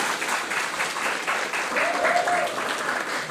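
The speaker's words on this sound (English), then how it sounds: "Give yourself a clap." A crowd claps steadily and warmly, close and sustained for a few seconds, with a brief whoop rising partway through.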